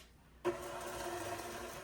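An electric whisk beats a third of a cup of sugar toward stiff peaks, its steady motor whine starting abruptly and running on evenly, close and alone with no talking.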